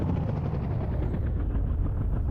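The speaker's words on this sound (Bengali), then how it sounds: "সো দেখতেই পাচ্ছ, আমরা হেলিকপ্টার দিয়ে এখন নিচে নামাচ্ছি।" A helicopter in the Indian Bikes Driving video game descends to land, giving a steady, loud rotor drone with a faint rhythmic chop throughout and no voices.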